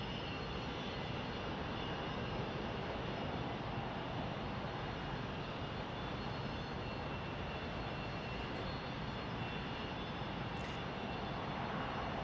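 An aircraft arriving at Salt Lake City International Airport, its engines producing a steady, broad distant roar that holds evenly throughout with no talking.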